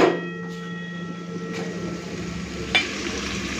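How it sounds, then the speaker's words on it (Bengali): Spice paste frying in a pan with a soft steady sizzle under a constant appliance-like hum, a couple of sharp clinks of a utensil against the pan, close, no speech. "মশলাটাকে একটুখানি ভালো করে ভেজে নিলাম, কাঁচা গন্ধটা চলে গেছে"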